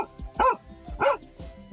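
A dog lets out two loud, close, yelping barks with a whining, almost screaming edge, spaced about half a second apart, with softer grunts between them.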